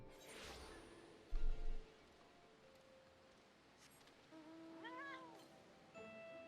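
In the video game Final Fantasy XIV, a cat gives a few short, faint meows over quiet game ambience, with a brief whoosh and a thump early on.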